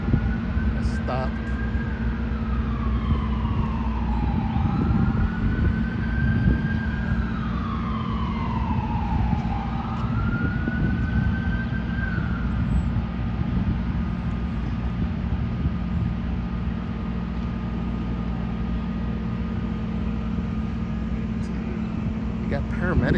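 A fire engine siren wails in long rising and falling sweeps as paramedics arrive at a fire in a building near a theme park, heard from a distance over steady street and crowd noise.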